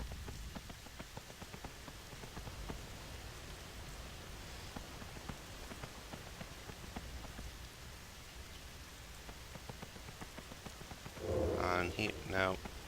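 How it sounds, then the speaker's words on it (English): Steady rain falls in a video game's Zuldazar city area below the waterfalls, a constant hiss of drops that runs throughout, with a brief voice and a louder burst of sound near the end. "No, it's still raining."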